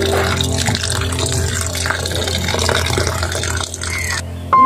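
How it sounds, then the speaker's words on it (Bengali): Running water splashes and drips steadily as vegetables are rinsed by hand for a vegetable paratha, a continuous close wash with faint clatter and no talk. "এখন একে একে আমি সবজিগুলো ধুয়ে নিব।"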